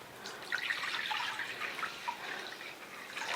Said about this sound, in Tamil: இது வந்து ப்ளைன் வாட்டரில் வாஷ் பண்ணிட்டு அடுத்து இன்னொரு தடவை வாஷ் பண்ணிக்கலாம்